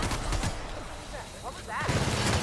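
Gunfire from The Outer Worlds, with dense bursts of shots at the start and end and a quieter stretch in the middle, while a voice talks over part of it.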